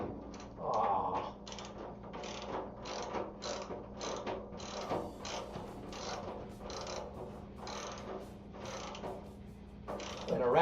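A ratchet wrench clicks in a steady repeating rhythm, about a dozen evenly spaced ticks close by, over a low background hum.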